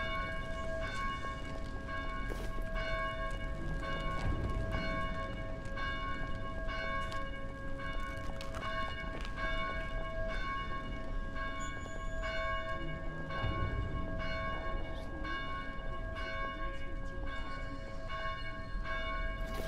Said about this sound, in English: Maybe you can figure out how to silence those blasted bells.